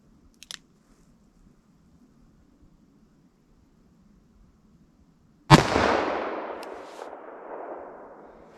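A single loud .44 Special revolver shot fired at a target, a sharp blast at close range followed by a long decaying echo, with a faint click beforehand and no talking.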